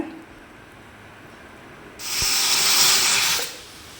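A pressure cooker cooking dal lets off a sudden loud hiss of escaping steam that lasts about a second and a half, then cuts off, over a quiet kitchen background.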